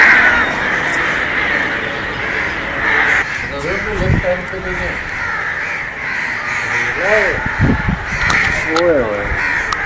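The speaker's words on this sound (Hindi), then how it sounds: "और उसकी छत पर हज़ारों कौवे आ गए यार।" A huge flock of crows cawing on a rooftop, their harsh calls repeating in clusters over a steady background hum, with someone speaking briefly between the caws.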